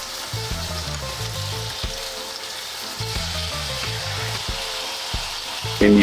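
Chicken breast sizzles steadily in a hot pan, a close, continuous frying hiss with faint crackles that holds at an even level the whole way, with no voices over it.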